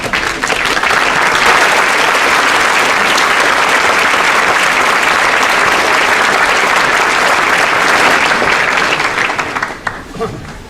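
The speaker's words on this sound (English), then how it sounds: "I hope you will stand up and turn around and give them a great round of applause." Loud, sustained applause from a standing audience at a school commencement ceremony, a dense roar of clapping that stays level for about ten seconds before quickly dying away.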